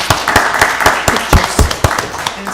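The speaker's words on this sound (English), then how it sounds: "As they take their seats, give them another round of applause." Audience at a county board of commissioners meeting claps as honorees take their seats, with sharp, uneven hand claps from a modest crowd over a couple of seconds.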